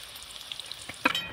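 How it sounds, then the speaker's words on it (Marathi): Karanji pastries frying in hot oil, a steady soft sizzle with small bubbling crackles and a brief louder burst near the end, close and alone. "आपल्या आता करंज्या तळण्यासाठी टाकल्या आहेत आपण"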